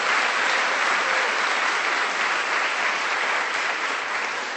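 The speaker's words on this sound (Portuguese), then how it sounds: "Aplauda o nome do Senhor." Church congregation applauding during a worship service, a thick, uniform roar of many hands clapping at steady loudness, with no break for the whole stretch.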